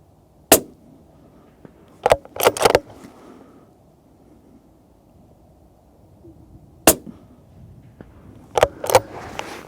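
Rifle shots fired at a steel target plate through a V8 riflescope, heard as sharp, loud cracks spread out over several seconds, some followed closely by distant metallic rings, with quiet stretches in between.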